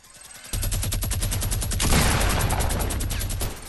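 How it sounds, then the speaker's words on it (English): Fortnite minigun opens up after a short lead-in, a rapid, continuous, loud stream of shots that runs unbroken for about three seconds before cutting off. "Minigun down the roof. Go on, do it."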